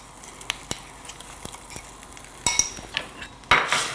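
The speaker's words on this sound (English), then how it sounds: "you add your paste and you stir" A spoon stirs curry paste in a pot, giving light clinks and scrapes with soft patter, building to a louder scrape and sizzle near the end.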